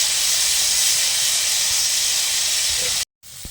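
Karamcha (carissa) fruit frying in hot oil in a pan, a loud steady sizzling hiss that runs unbroken for about three seconds, cuts out abruptly, then resumes more faintly.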